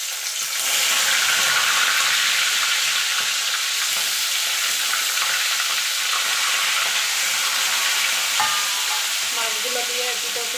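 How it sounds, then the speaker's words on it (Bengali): Pieces of katla fish sizzle loudly in hot mustard and white oil, a dense, steady frying hiss that starts just after they hit the pan and carries on for the full stretch with small crackles, no voices. "মাছগুলো দিয়ে এপিট ওপিট করে আমি ভেজে নেবো"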